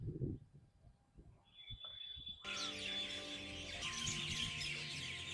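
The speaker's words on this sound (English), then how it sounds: "some birds are flying." Birds calling over open village fields planted with brinjal on a morning walk, a few chirps early, then a steady bright chorus of twittering birds that grows fuller and stays fairly loud to the end.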